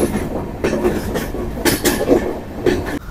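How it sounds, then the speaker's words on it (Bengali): The Agartala Garib Rath Express, running from Agartala to Kolkata, rolls past nearby with a rumbling body and repeated clickety-clack wheel beats over the rail joints. "এটা ছিল আগরতলা গরিবরথ এক্সপ্রেস, আর এই ট্রেনটি আগরতলা থেকে কলকাতা স্টেশন যায়।"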